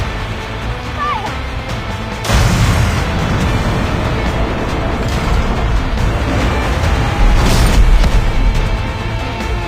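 A large weapon fires in the video game Tower of Fantasy, sudden deep booming blasts with a sustained roaring rumble and a second heavy burst later, loud and close, under game music with no talking.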